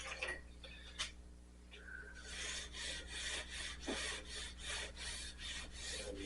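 Paint being cut and buffed on a Corvair body panel, a steady broadband whirring rasp that runs almost continuously after a brief start, fairly close with slight swells in intensity.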